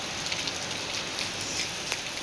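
Heavy rain pours steadily in a dense, even wash of hiss and patter, close and constant throughout, with no voices and only faint scattered drop impacts standing out.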